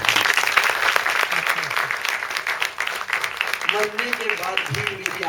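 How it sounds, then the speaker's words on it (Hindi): Loud, dense audience clapping fills the stretch in a theatre, steady throughout, with a voice speaking faintly over it near the end. "एक बार और जोरदार तालियां।"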